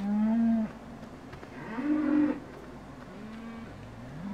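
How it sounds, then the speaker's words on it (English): Several drawn-out moos from fattening cows in Farming Simulator 2015, one after another with short pauses between them, fairly close and clear over a quiet background. "They make a different kind of moo."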